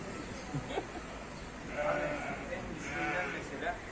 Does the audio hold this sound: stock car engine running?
no